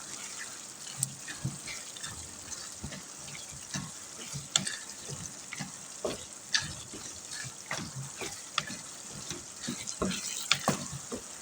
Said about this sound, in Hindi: अब यहाँ पर आँच हम थोड़ी सी तेज़ कर लेते हैं और इसको थोड़ा सा भून लेते हैं तेज़ आँच पर।